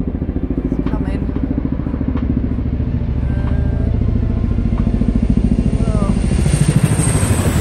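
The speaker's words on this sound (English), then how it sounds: "I got the helicopter." A helicopter passes overhead above a cloudy garden, its loud, continuous low rotor chop throbbing steadily throughout.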